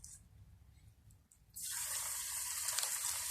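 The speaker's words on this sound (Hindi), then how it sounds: "अब मैं हाथ से पकौड़े डालने लगी हूँ पैन में।" Potato pakoras dropped by hand into hot frying oil in a pan burst into a loud, steady hiss of sizzling that starts suddenly and keeps going close by, after a quieter stretch with only low background rumble.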